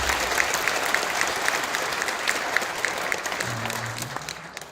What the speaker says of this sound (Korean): 이분들을 위해서 뜨거운 박수로